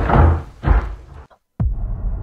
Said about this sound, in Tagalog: may biglang kumalabog sa bubong